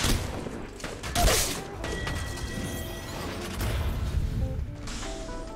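Gunfire in the mobile shooter Apex Legends Mobile: a scattered run of sharp shots and impacts with a louder burst near the start, mixed with game effects and a busy, noisy background.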